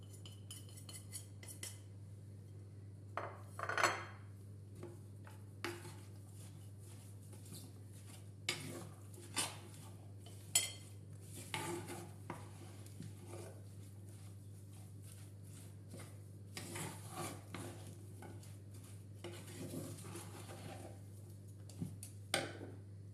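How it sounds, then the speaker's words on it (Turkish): Scattered metallic clinks and scrapes of a spoon in a bowl as spices and seasonings are stirred together for a clay-pot kebab dish, quiet and irregular over a constant low hum. "Hepsini karıştıracağım şimdi. Tüm bu malzemeleri."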